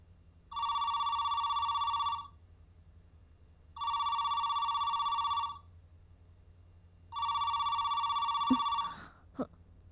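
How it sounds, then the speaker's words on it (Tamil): A telephone rings three times in a Tamil drama scene, each long electronic ring steady and clear with pauses between, followed by faint handling sounds at the end. "ஒருவேளை போன்ல ஆகாஷா இருக்குமோ?"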